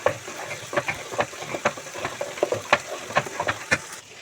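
Taro and coconut frying and being stirred in a pan, with nun and turmeric added, giving a steady close sizzle broken by repeated scraping strokes of a spoon at an uneven rhythm.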